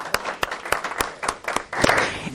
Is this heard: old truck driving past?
no